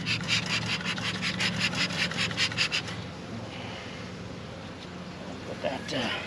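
Formic Pro mite treatment strips being pulled apart with gloved hands beside a beehive, a run of rhythmic rubbing, rustling pulls through the first half, then quieter scraping against steady background noise, with talk nearby.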